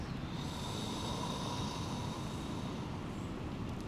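A long, steady exhalation during a breathing exercise, a close, breathy rushing sound held for about four seconds with no speech over it.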